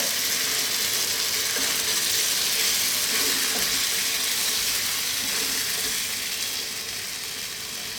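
Coconut milk poured into a hot pan gives a loud, dense sizzle and bubbling hiss that holds steady, then eases slightly as the heat drops, with no voices over it.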